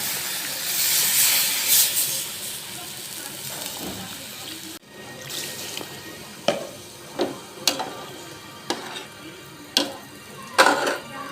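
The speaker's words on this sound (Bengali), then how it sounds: "এখন আমি পানি দিয়ে দিব" Water poured into a hot karahi while cooking curry gravy for sea fish with lubia beans, a broad steaming hiss that fades, followed by several sharp clinks and stirs nearby.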